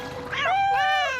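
A single drawn-out kitten meow rises and holds clear and close for about a second, with no other sound around it.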